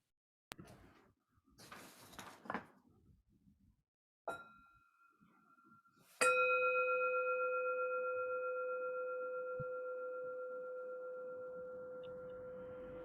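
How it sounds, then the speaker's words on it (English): Meditation bell struck once during a group session, a clear ringing tone that sustains and slowly fades over several seconds, preceded by faint handling clinks and a softer strike. "And Rahina will give us a bell."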